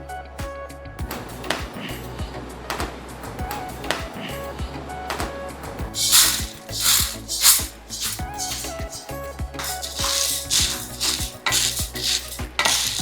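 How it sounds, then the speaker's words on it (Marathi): Sattu grains dry-roasting in a pan, heard as a steady scraping and rattling of stirred grains with sharp ticking clicks, busier and brighter from midway on, with no talk. "हे छान असे भाजून घ्यायचे की पटपट फुटायला पाहिजे."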